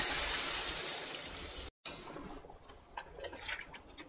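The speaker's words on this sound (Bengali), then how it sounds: "মিক্স করে এবারে এটার মধ্যে ঈষৎ উষ্ণ গরম জল দিয়ে দেব।" Lukewarm water pours into a pot of chicken shorba cooking over a medium flame, a steady close rushing splash that breaks off briefly, then resumes as softer, uneven trickling and splashing, with no talking.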